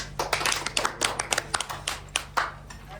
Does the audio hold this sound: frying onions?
no